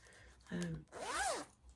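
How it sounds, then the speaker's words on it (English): Zipper on a large 13-by-12-inch knitting project bag, pulled in two quick strokes, a short rasp followed by a longer sweeping zip, close and fairly quiet. "It's got the usual zip."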